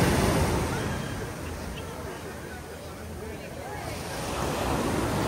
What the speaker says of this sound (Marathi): मोठ्या मोठ्या लाटा येतात